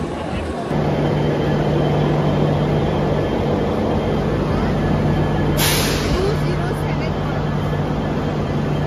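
A train stands at platform 11 of Mumbai's CST station, with a loud, steady rumble and hum, a brief hiss partway through and voices mixed into the station noise.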